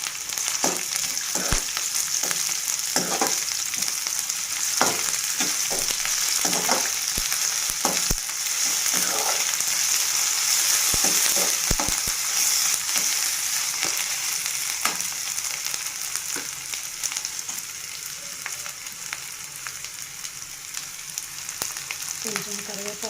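Ginger garlic paste frying in a pan for naatu bathani gudalu: a constant loud sizzle with scattered clicks of stirring, fairly close and without talk.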